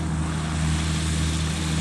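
A Beech Bonanza V-tail propeller airplane with tip tanks flies over a vintage flying weekend, giving a steady, loud droning engine hum with a constant low tone and no talk.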